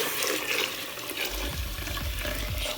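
Cooked tomato being poured from a small pot into a larger one, a thick liquid glugging and splashing steadily at close range, louder and heavier in the second half, with no talking.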